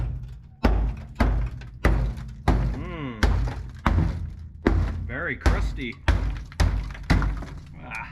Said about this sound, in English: It's time for some percussive inspection.